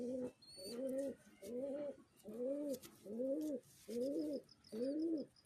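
A pigeon held in the hand coos in six steady, rounded phrases with short gaps between them, close and clear, while its wings vibrate faintly against the grip.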